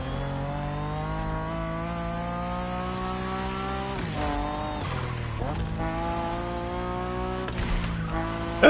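A car engine in The Crew Motorfest video game drones at steady revs with a rich harmonic tone, briefly dipping and rising around shifts midway.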